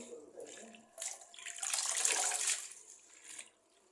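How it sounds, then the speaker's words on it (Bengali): Running tap water streams steadily over freshly cut potatoes being washed in a kitchen sink, swelling loudest midway before tapering off. "কয়েকটা আলু কেটে দিছি, ধুয়ে নিতেছি"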